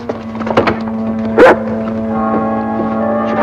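A big dog barks a few times in close, sharp bursts, with a louder thump-like bark in the middle, over a steady low hum.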